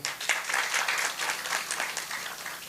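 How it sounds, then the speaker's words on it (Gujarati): A crowd at a Guru Purnima religious discourse gathering in Jamnagar claps together in a lively, continuous burst of applause, dense and close, with individual claps flickering through the steady wash. "તાળી પાડો ભાઈ."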